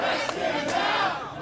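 An angry crowd of community activists protesting outside an apartment building in West Hollywood shouts and yells together in a loud, sustained roar, close and steady with no clear individual words.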